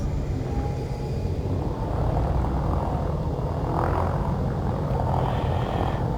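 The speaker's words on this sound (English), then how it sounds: "Landing gear retracted." A spaceship in the game Elite: Dangerous retracting its landing gear, heard as a steady, loud mechanical engine rumble with a rising whir swelling near the middle, continuous throughout with no voices.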